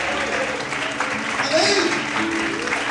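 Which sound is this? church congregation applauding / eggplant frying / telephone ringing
church congregation applauding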